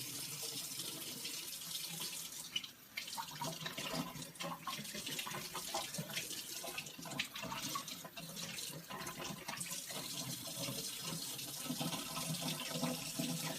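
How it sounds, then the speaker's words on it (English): Steady tap water runs continuously into a kitchen sink while kale leaves are rinsed under the stream, a constant splashing hiss with small shifts where the leaves move through the flow. "we're going to want to rinse our kale like the rest of the vegetables"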